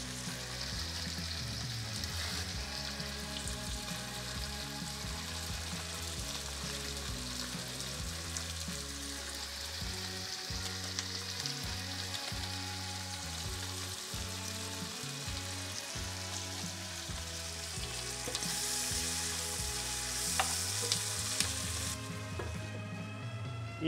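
Liver, vegetables and spices fry in wild boar fat, a continuous close sizzle and crackle with occasional stirring scrapes, steady throughout with no voices.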